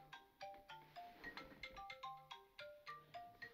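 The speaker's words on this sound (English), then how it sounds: "And I can't reach the phone, so the phone went off." A phone ringtone goes off as a repeating melodic pattern of short bright notes in a steady rhythm, quiet and slightly distant, with no talking.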